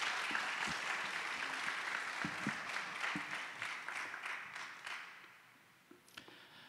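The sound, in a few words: congregation applauding to welcome a missionary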